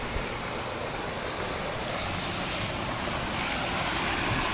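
Steady rushing water flows near Sillery Gaon in East Sikkim, a continuous broadband wash heard up close and alone, with wind buffeting the microphone.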